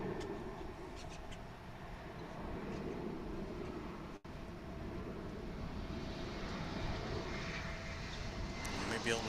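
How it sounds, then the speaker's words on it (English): An American Airlines Airbus A321 arriving from Portland, Oregon on approach to land at DFW International Airport, a steady broad jet roar rising slightly in loudness across the clip, heard from a distance at the runway. "Be able to hear that plane coming in the background."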